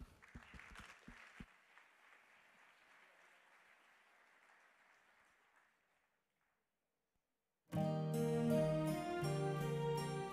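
Audience applause for the Arsène Théâtre troupe on stage at the Forail, a dense clatter of clapping that gradually thins and fades out, then a pause before loud music begins.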